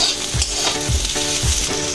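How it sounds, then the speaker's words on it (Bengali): Potato and cauliflower pieces fry together in a pan for samosa filling, a loud close sizzle broken by regular stirring scrapes roughly every half second. "আলু ফুলকপি ভাজা হয়ে গেছে"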